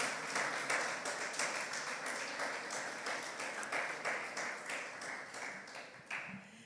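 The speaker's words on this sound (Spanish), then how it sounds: "Vamos a darle una ofrenda de palmas a nuestro Dios por su palabra." Church congregation clapping as an offering of praise during a sermon, a lively sustained applause with distinct individual claps in an irregular rhythm, gradually thinning and fading toward the end.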